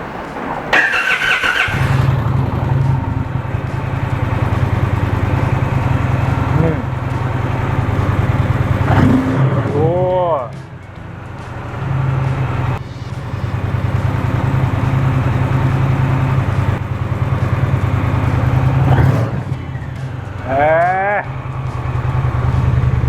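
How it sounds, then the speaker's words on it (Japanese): Indian Challenger motorcycle with a water-cooled engine starting with a sharp crank, then a loud, close, deep exhaust idle broken by several quick throttle blips and revs that rise and fall. "インディアンモーターサイクルチャレンジャーの排気音サウンドチェックやっていきたいと思います"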